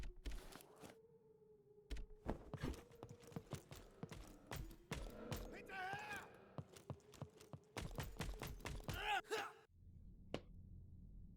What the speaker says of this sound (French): Pourquoi il y a un bruit de cheval?